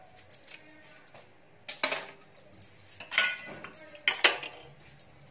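A knife cuts through a lemon in a home kitchen while making paneer, several crisp clicking and tapping strikes against a cutting board and utensils, fairly quiet and irregular.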